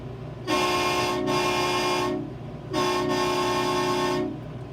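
Two long, loud blasts of a train horn, a deep chorded tone, each sustained about two seconds with a short dip in the middle.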